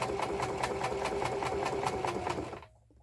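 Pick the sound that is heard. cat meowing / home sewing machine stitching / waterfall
home sewing machine stitching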